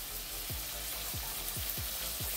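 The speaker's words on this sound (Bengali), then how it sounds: "তারপর সমস্ত মশলা খুব ভালোভাবে আমি এইভাবে 2 থেকে 3 মিনিট ভালো করে কষিয়ে নেব।" Coriander leaf and tomato paste with spices sizzles steadily in a pan for a fish curry, with a low hum beneath and five regular scraping strokes of a spatula at even intervals, close and clear.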